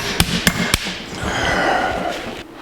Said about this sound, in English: Let me get these cotter pins out.